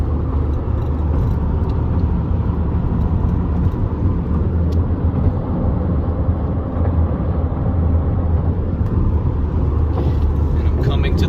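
A car drives across the 24-mile Causeway Bridge over Lake Pontchartrain near New Orleans, with a loud, constant low road and engine rumble that continues without a break.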